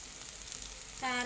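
Brown onion paste frying in a pan with turmeric and chili powder: a faint low simmer that bursts into a loud, steady sizzle near the end, close by with no talking.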